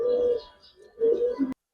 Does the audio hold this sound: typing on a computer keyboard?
no